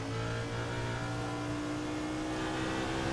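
NASCAR race car engine in a sim racing game at Watkins Glen, a steady loud droning roar with rising and shifting engine tones as the car is throttled out of a long turn, with no talk.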